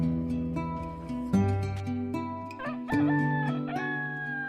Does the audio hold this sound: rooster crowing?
yes